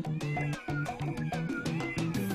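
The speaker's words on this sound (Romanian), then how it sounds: "sunt pisici de alea egiptene" Cartoonish Egyptian cats in a video game meow repeatedly in quick succession, several bright, tonal mews layered over a steady musical game backdrop, loud and close.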